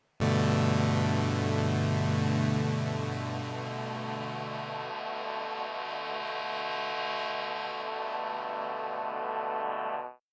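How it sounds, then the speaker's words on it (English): A degraded synth tone sweeping between saw and square waveforms from the Degradation Engine Kontakt instrument drones loud and buzzy, thinning partway through and then cutting off abruptly. "we can hear anywhere between a saw wave and a square wave, and we can degrade either signal as much or as little as we'd like"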